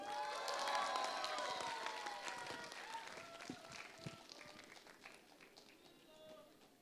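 Audience applause and cheering for a semifinalist on a talent show stage, a broad wash of clapping and crowd noise that is loudest at the start and slowly thins, with music tones and voices mixed in.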